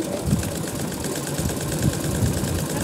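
Sewing machine stitching an elastic band for a petticoat waist, a steady close whirring hum with a rapid repetitive needle pulse, continuous throughout.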